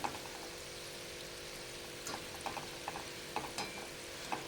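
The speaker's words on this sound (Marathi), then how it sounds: "असे फिरवत फिरवतच गुलाबजाम तळायचे" Gulab jamun frying in oil over medium heat, a soft continuous bubbling sizzle punctuated by light scraping clicks as a spoon turns them, close and fairly quiet with no voices.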